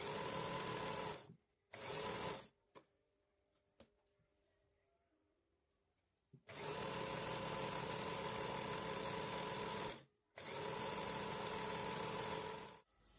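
A sewing machine stitches the side seam of a dress with a ruffled, elastic-waist skirt, running in long, steady whirring stretches near the mic, broken by short pauses and a longer quiet gap with a few clicks.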